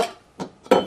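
A lid set onto a cooking pot of celery-topped stew makes a few brief metallic clanks and clinks, close and fairly loud, with short pauses between them.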